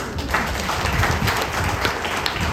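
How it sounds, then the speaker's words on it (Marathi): A community gathering audience claps loudly and steadily in a dense, close burst of applause lasting a couple of seconds. "तेव्हा मित्रांनो एकदा जोरदार तुमच्यासाठी टाळ्या होऊन जाऊन दे"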